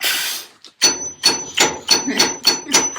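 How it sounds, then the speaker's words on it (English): An old, worn hammer with a loosening head strikes repeatedly in a steady rhythm of about seven sharp, loud, close blows, each ringing briefly. "This hammer's about had it. The head's about to fall."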